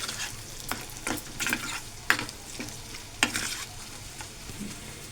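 A spoon stirs a tempering into gongura chutney in a pan, making scraping and clinking sounds against a soft sizzle. Several sharp knocks of metal on the pan stand out, close by and without talk.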